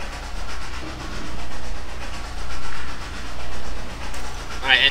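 A video game train rumbles steadily along the rails with a faint rhythmic clatter and hiss, continuous throughout, with a brief higher chime near the end.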